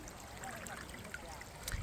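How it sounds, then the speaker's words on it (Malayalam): River water flows with a strong current in a steady, faint, continuous wash, with no clear voices. "വെള്ളം ഇങ്ങനെ ഒഴുകി പോയിക്കൊണ്ടിരിക്കാണ്."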